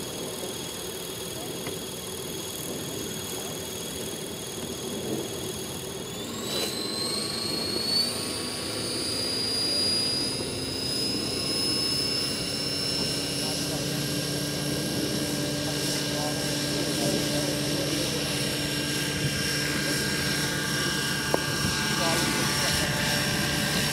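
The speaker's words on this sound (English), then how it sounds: "Make it sound like it's a turbine." A speaker in an RC scale model aircraft plays a turbine engine sound, a whine that spools up steeply and then holds a loud, rising high pitch over a low roar, with people talking nearby.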